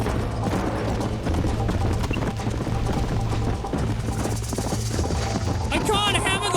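Horse hooves clip-clopping in the Red Dead Redemption video game, a rhythmic trot under a busy, loud game mix with music, ending in a whinny-like squeal.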